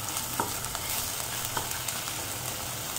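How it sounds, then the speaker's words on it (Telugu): Homemade ginger garlic paste fries in a pan with a dense, even sizzle, broken by occasional soft scraping taps of stirring. No one speaks. "ఇది కొంచెం పచ్చివాసన పోయే వరకు ఫ్రై చేసేసుకున్నాను."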